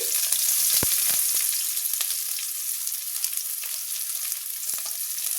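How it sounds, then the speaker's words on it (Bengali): Oil sizzles steadily in a pan as chopped onion fries, a soft crackling hiss broken by a few sharp clicks and taps, no voices. "আমি এবার পেঁয়াজ কুচোনা দিয়ে দিচ্ছি"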